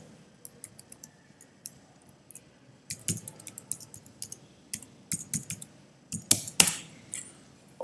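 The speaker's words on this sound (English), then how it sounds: "I have to type in my password." Someone types a password on a computer keyboard: sparse, single key clicks at first, then quicker clustered taps near the end, close and crisp in a quiet room.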